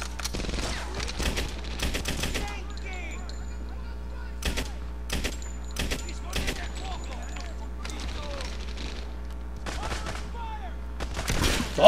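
Gunfire rattles in Medal of Honor Airborne: clusters of sharp, fairly distant shots and short automatic bursts spaced irregularly over a steady low hum, with faint voices chattering in between.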